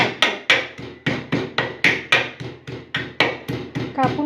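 Garlic is crushed for a bhindi (okra) fry with a run of about a dozen sharp, evenly paced pounding thuds, each knock ringing out briefly before the next, close and distinct with no talking.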